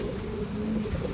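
Madrasi and Andhra line mixed-breed pigeons, mostly females kept caged, coo softly and steadily in a low murmur, close by, with no voices.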